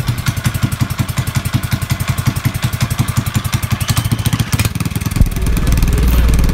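An 18HP boat engine with reverse gear cranks in a rapid, loud chugging pulse, then catches and settles into a steady, rough idle in neutral, close and dominant with no talk over it.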